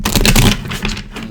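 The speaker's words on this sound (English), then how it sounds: "One more shuffle." A deck of tarot cards is shuffled by hand in a quick riffling burst that rustles loudly up close, then tapers into softer shuffling.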